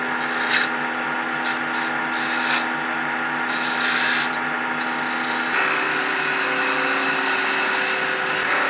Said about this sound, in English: Maybe I'll stick to my quarter inch gouge.